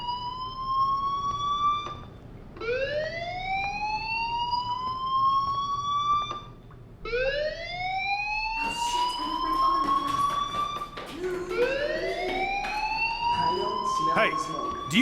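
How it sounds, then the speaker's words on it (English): A school fire alarm in Life Is Strange wails in repeated rising whoops, each sweep climbing then cutting off before the next. The sweeps start spaced apart and come faster and overlapping toward the end, loud and steady throughout. "do you hear that fire alarm? That means you should be outside."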